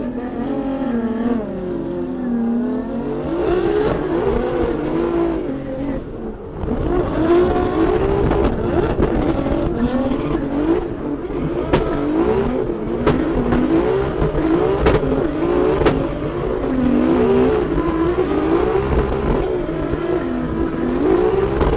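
A BMW E36 drift car on a Formula Drift practice run at E-Town, the engine revving hard and continuously with rising and falling pitch and bursts of tire squeal, loud and close throughout with no talking.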